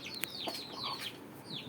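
A hen gives a few short, repeated clucks close by, with some higher chirping calls mixed in, in a quiet setting with no talk.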